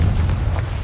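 A Confringo blasting spell exploding in the Hogwarts Legacy video game inside a cave, one loud, deep booming burst that rumbles for under a second.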